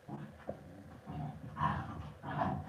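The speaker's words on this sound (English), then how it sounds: "that's him pounding Huey" Puppies wrestle roughly, one pounding another named Huey, with soft growls, grunts and scuffling close by over a few seconds.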